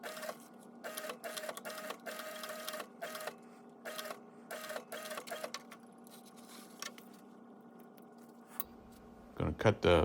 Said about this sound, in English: I'm going to sew the last end of the strap with my Cobra 26 sewing machine